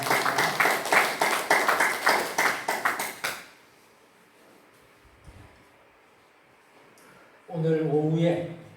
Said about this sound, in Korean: 다시 한 번 더 우리 박수로